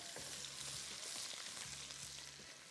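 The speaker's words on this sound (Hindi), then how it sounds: "लहसुन इसमें शामिल किया, इसको थोड़ा सा फ्राई किया।" Garlic fries in a karahi with a quiet, continuous sizzle, and two short bursts of scraping stir sounds come from a utensil moving through the pan.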